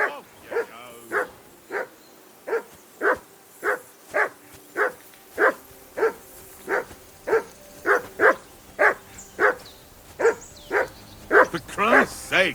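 Dog barking in Kingdom Come Deliverance 2, a medieval video game: a long run of about twenty steady, evenly paced barks, close and loud, getting a little more excited near the end.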